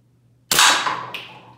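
A single loud, close gunshot cracks sharply as it strikes an everyday object, and a brief second impact rings out just after as the sound dies away.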